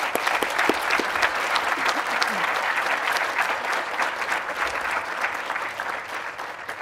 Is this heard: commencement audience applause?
yes